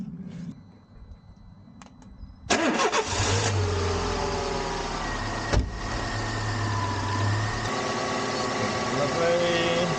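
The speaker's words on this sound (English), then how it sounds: "So now when we start the engine, that should start to spin the alternator," A car that died on the road, its alternator belt now fitted, cranks and fires up with a sudden loud catch, then settles into a steady close idle with a brief clunk midway.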